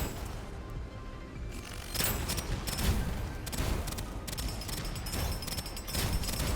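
Smart pistol gunfire in the video game Deadzone, dense rapid fusillade of shots and impacts with bursts swelling in the middle, loud and continuous, no talking.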